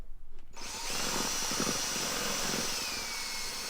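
After a brief quiet moment, a power drill spins up and runs continuously with a high, steady whine, loud and close.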